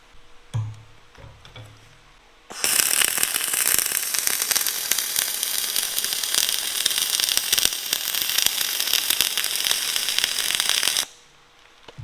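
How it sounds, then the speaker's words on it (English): Dual shield flux-core welding on a steel dump trailer tailgate, a continuous loud crackling sizzle lasting about eight seconds, starting and stopping abruptly with quieter handling noises before it. "I'm going to go ahead and weld this up with dual shield."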